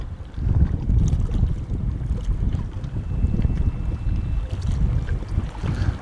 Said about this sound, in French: le vent est reparti